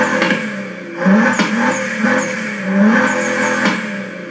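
Sturmkind DR!FT Racer RC car sound effect plays an aggressive engine note up close, revving in repeated surges with brief tire-squeal chirps between the pulls.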